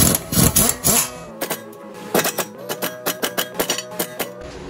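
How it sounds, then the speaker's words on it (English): An impact wrench drives a lug nut onto a new wheel stud of a 2003 Honda Civic LX sedan, firing in short, sharp rattling bursts with brief gaps between them, close and loud. "We'll start off a bolt and nut by hand before driving it in with the impact"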